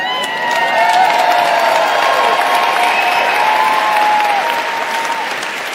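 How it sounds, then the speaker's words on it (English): A large audience at a Save Soil event bursts into sustained clapping mixed with shouting and cheering, loud and dense throughout before easing slightly at the end. "So all this shouting and clapping is fine"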